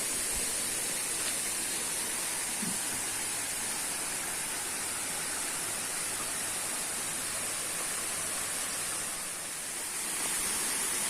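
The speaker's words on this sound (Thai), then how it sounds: "น้ำตกไม่ใหญ่นะครับ" Small seasonal waterfall in Chonburi, Thailand, producing a steady, broadband rush of falling water that stays constant and fills the whole scene with no voices.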